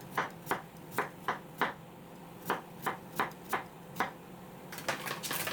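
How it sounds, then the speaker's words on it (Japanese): A knife thinly slicing cucumber on a cutting board, a run of about a dozen crisp, evenly spaced taps at a brisk rhythm with a short pause midway, close and clear with no talking. "まずはきゅうりを薄切りにしていきます"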